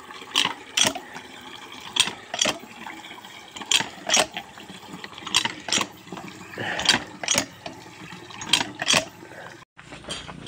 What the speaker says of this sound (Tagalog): At magbubumba na tayo.